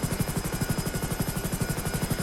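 A police helicopter flies in the GTA 5 video game, its rotor chopping in a fast, steady thump that stays close and loud throughout, with no one talking.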